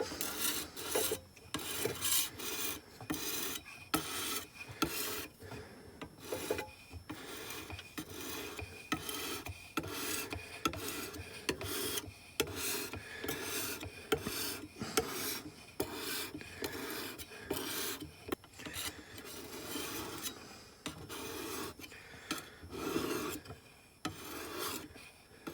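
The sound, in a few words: sanding a knife blade with fine grit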